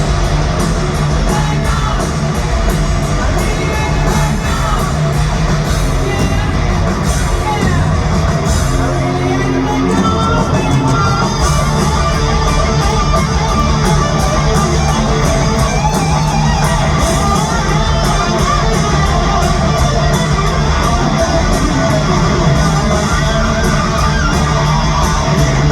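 A band performing live at a Tampa, Florida concert: loud, dense rock music with driving drums, guitars and vocals, a roaring crowd mixed in, constant and close throughout.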